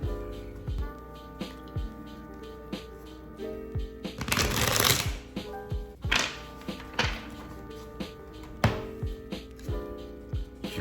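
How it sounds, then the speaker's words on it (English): A deck of tarot cards is shuffled close by in repeated riffles and soft taps, with one longer burst of riffling in the middle. "I wanted to pull tarot and an oracle card for today"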